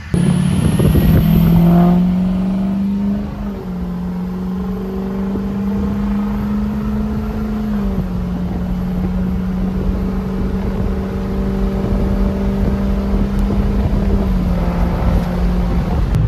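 Ford 6.0 Powerstroke diesel truck driving on a road, its steady engine drone rising and shifting with gears from inside the cab, continuous and fairly loud with some wind noise.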